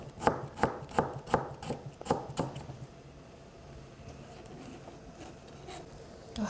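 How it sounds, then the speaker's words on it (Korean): A knife slices Korean pear thinly on a cutting board: a quick, regular run of about eight crisp close taps, then the cutting fades to quieter, sparser contact. "그 다음 배를 또 무와 똑같은 모양으로 얇게 썰어 놓습니다."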